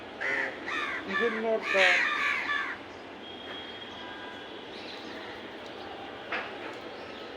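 Crows gather to eat fruit put out for them, giving several harsh, close caws in quick succession. A few fainter calls follow over a quiet outdoor background.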